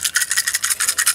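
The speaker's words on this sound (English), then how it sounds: "It sounds like a baby rattle toy now." A busted computer mouse, damaged by rifle fire, gives a rapid dry rattling shake like a baby rattle toy, close and alone, repeating about nine times in a second.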